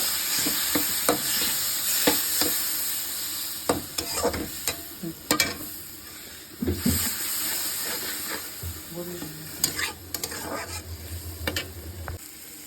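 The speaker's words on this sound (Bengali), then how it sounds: "এর মধ্যে একটু দিয়ে মশলাটাকে ভালো করে ভেজে নেব।" Spice paste, with tomatoes added, fries in a pan with a low hiss, while a spoon stirs and scrapes in scattered sharp knocks close by.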